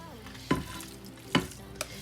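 Casserole ingredients being stirred in a pan, three distinct scraping knocks of a utensil spaced about half a second apart over a quiet background.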